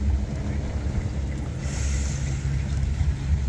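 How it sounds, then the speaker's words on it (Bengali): A small dinghy sets out from a char in the Sundarbans, its hull slapping through the water under a constant low rumble, with wind buffeting the microphone and sea wash behind. "এবার ডিঙ্গি নৌকা করে রওনা দিয়েছেন আমাদের দেবকাকা।"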